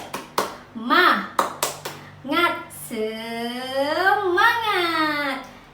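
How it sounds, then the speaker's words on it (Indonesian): A primary-school class performs rhythmic "tepuk semangat" spirit clapping, with sharp claps in a quick pattern followed by children chanting loudly together in unison, close and lively. "Kita tepuk semangat bersama-sama."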